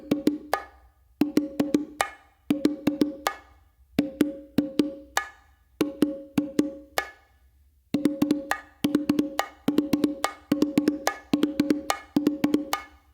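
Bongos played by hand in repeated groups of quick open strokes on the hembra followed by sharp cracked slaps on the macho, crisp and close, in a steady rhythmic pattern with no talk.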